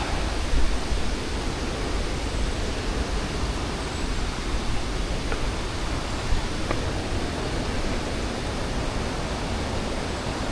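Maranum Falls, a waterfall in Pangasinan, pours as a steady, dense broadband roar with no break, close and loud throughout and no voices over it.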